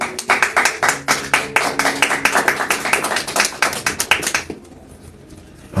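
Strong rhythmic clapping from a church congregation applauding the Lord, loud and steady for about four seconds before stopping abruptly into quiet room tone.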